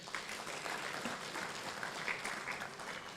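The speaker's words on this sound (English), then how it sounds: "a round of applause" Conference audience at a renewable energy event applauding, a steady dense clapping that fills the room without pause for about three seconds, moderately loud with no voices.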